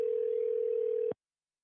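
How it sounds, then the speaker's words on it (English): Telephone ring heard over a remote hearing call: a single steady electronic tone lasting about a second, then cutting off abruptly into silence. "I'm hearing a phone ring."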